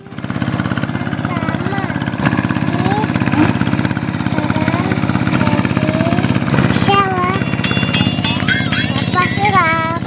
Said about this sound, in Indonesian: Apa dia naik traktor?